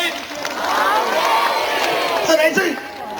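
Concert crowd at a stage show cheers and applauds to welcome a singer, a dense roar of voices and clapping that stays loud and steady throughout.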